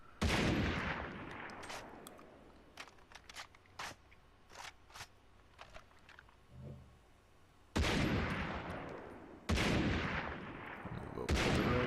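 Gunshots in Far Cry 3, fired at barrels: a few heavy booming blasts with long decaying tails and a string of sharp single cracks between them, loud and close, with no talk.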